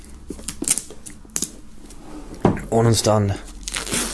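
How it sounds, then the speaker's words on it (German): Plastic shrink wrap crinkles and tears as it is peeled off a boxed debut album set, with brief crackling bursts mixed under someone talking in German. "Wir werden als erstes mal die Folie abmachen"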